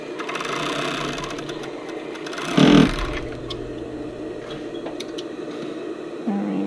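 A sewing machine stitching a sports bra waistband whirs steadily and close by, with a brief louder surge partway through and small clicks toward the end.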